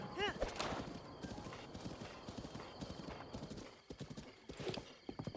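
A horse gallops in a video game, its rapid clip-clop hoofbeats running steadily throughout, opened by a sharp whinny, with a voice talking over the galloping.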